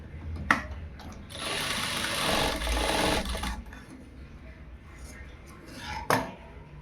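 A sewing machine stitches joined fabric pieces along a half-inch seam while making piping. It runs in one steady burst of about two seconds, close and fairly loud, with a few sharp handling clicks before and after.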